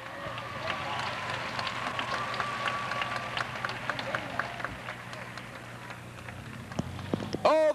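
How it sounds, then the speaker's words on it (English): Crowd applause at a 1987 Hollywood Stunt World show in Ashland, Ohio, a steady broadband patter of clapping and cheering from a large outdoor audience, with an announcer's voice carrying over it. "Oh, they love that applause"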